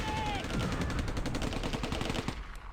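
Rapid bursts of gunfire and mortar shots in the Close Combat: A Bridge Too Far game at Arnhem Bridge, loud and close, with a dense rattling rhythm of repeated reports that cuts off near the end.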